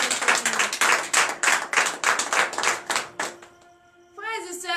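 A church congregation at a morning prayer service in Benin claps in loud, rhythmic bursts for about three seconds, then the clapping stops and a sustained tone and voices follow.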